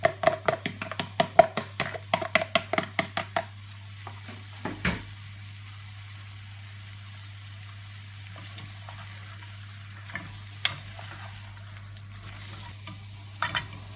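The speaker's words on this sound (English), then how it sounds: "our steak's been cooking here now for about 10 minutes or so." Browned steak and onions cooking in a pan start with a quick run of utensil taps and stirring clatter, then settle into a faint, low sizzle over a steady hum with an occasional clink.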